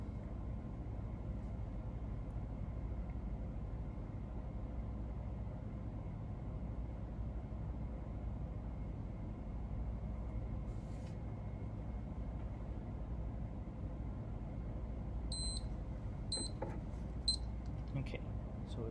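A lab centrifuge spins at 13,000 RPM during PCR and gel extraction work, giving a steady, even mechanical hum that holds for the whole stretch, with a few faint high clicks near the end.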